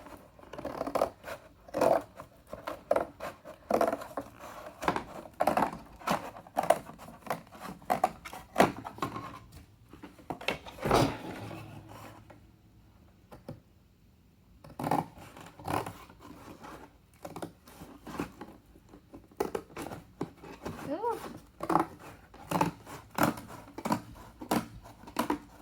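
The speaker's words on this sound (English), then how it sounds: "So I'm just gonna cut the excess here" Scissors snip through recycled cardboard, cutting away excess for a mailer in a rapid series of crisp, close cuts with short pauses between runs.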